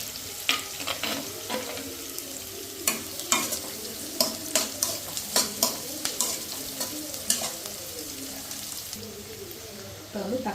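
Fish masala and green chillies sauteing in a pan, with a steady sizzle under sharp, repeated spatula scrapes and clinks against the metal, close and fairly loud throughout.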